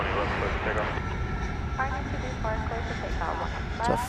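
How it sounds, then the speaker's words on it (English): FedEx MD-11 jet at DFW Airport giving off a steady broad engine roar under continuous overlapping talk and radio chatter. "It's a FedEx MD-11."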